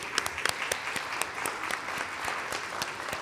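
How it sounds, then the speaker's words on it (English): An audience at a climate conference panel gives the panelists a round of applause, a steady spread of clapping with sharper individual claps near the start, moderately distant. "Can we give everyone a round of applause?"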